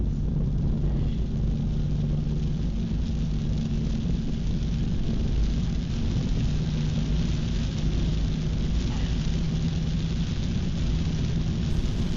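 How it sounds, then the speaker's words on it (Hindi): Heavy rain hisses steadily around a vehicle driving near the Sendhwa border, with a dense, continuous wash under a low engine and road rumble. "यहाँ पे तो बहुत ज़्यादा तेज़ बारिश है"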